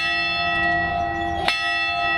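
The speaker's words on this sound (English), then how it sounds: "those would be the last wedding bells to ring from the Little Church of the West for quite some time" Church bells ring at the Little Church of the West, a Las Vegas wedding chapel, in a loud sustained peal with a sharp strike near the end and no talk.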